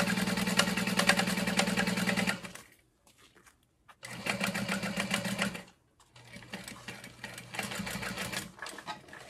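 A sewing machine runs a basting stitch on a wristlet clutch in three close bursts of fast, even whirring, separated by short pauses with faint handling sounds, no one speaking.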